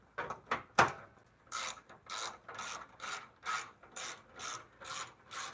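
A hand ratchet tightening bolts on a car: a few sharp clicks, then a steady series of about ten rhythmic ratcheting strokes, close and fairly quiet, with no speech.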